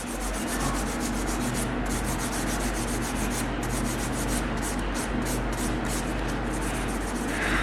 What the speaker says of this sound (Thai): ต้องตะไบของหนูให้ บางนิดนึง เล็บมันจะได้ไม่กด